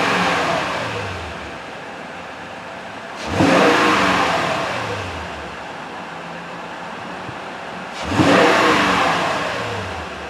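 A car that has just had a new battery and alternator fitted after a no-charge fault, revved hard twice; each burst swells loudly and then settles back to a steady idle, with no talking.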